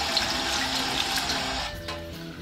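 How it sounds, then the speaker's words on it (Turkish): Kitchen tap running water over hands at a sink, a steady close rushing splash that thins slightly toward the end. "Suyu açıyorum. Elimi suyun altında tutuyorum."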